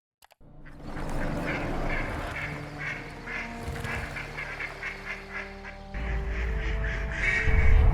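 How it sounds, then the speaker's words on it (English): Ducks in an AI-generated cinematic film of New York City overrun by ducks, loud repeated quacks and honks coming in quick bursts over a dramatic rumbling backdrop that swells toward the end. "it's going to be a cinematic film about New York City being overrun by"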